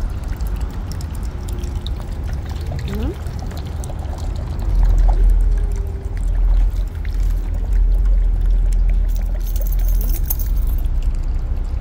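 Water poured out for dogs outdoors, a steady gushing splash growing heavier partway through, with a brief vocal sound mixed in.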